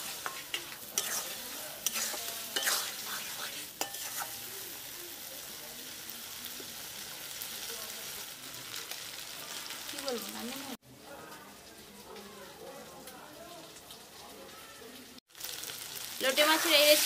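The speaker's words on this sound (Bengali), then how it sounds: "মাছগুলো মশলার সঙ্গে খুব ভালো করে মিশিয়ে নেব।" Fried Bombay duck fish being stirred into a thick masala in a pan, village style, with scraping and stirring sounds over a low sizzle, a couple of abrupt cuts, and a louder burst of frying near the end.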